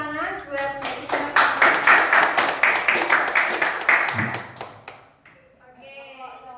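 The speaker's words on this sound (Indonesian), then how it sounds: "Oke, beri tepuk tangan buat Mbak Isna." A classroom group claps in quick, steady rhythm for a few seconds, mixed with children's voices, then fades to quiet talk.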